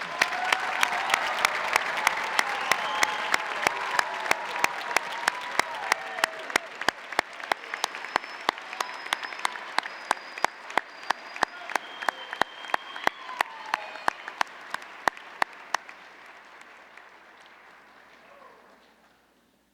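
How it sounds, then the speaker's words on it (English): Graduates being applauded at a university fall commencement ceremony, a large hall full of sustained clapping that swells, then gradually thins and fades out over nearly twenty seconds. "Let's give another round of applause for our graduates today"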